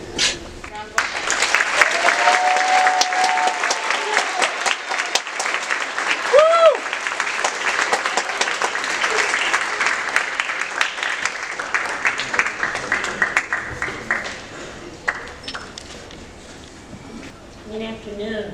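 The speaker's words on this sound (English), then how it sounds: "Round of applause." A large crowd at a school academic awards ceremony applauds at length, sustained clapping with a few cheers and voices mixed in that slowly fades toward the end.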